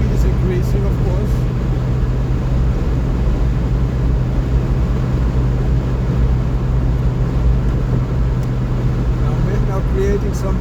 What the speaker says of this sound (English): So you hear now some buffeting because the speed is increasing, of course.